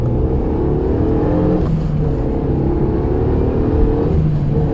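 A Renault Megane 3 RS Trophy 265 accelerates, heard from inside as a loud steady engine drone rising in pitch, with a short break around a gear change.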